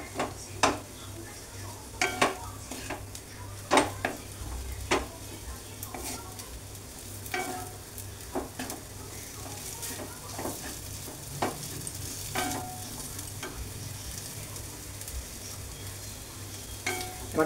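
Omelette cutlet frying in a pan: a soft continuous sizzle runs throughout, broken by irregular sharp clinks and scrapes of a utensil against the pan, close and moderately loud, with no voices.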